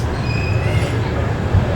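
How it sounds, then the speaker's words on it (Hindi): The Shane Bhopal Express pulls out of Agra Cantt platform 2, a loud, steady rumble of a departing Indian passenger train with faint wheel squeal overhead. "यहाँ हमारी ट्रेन का भी डिपार्चर हो चुका है"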